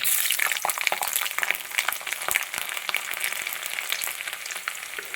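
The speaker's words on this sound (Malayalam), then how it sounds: "അതിലോട്ട് എട്ട് വെളുത്തുള്ളി നടുവേ പിളർന്നിട്ടിടുന്നു" Split garlic cloves go into hot oil with mustard seeds for a Kerala-style chicken curry, making a dense, close crackling sizzle with sharp pops scattered throughout, heard alone.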